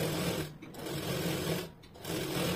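A sewing machine stitches a strip onto a blouse, running in a steady close whir that briefly pauses twice before resuming.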